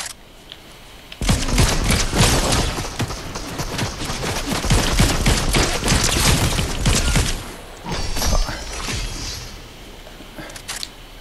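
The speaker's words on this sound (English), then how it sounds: "somebody shot something at him" Dense bursts of rapid automatic gunfire in a shooter video game, crackling almost continuously for several seconds, pausing briefly, then resuming loud and close.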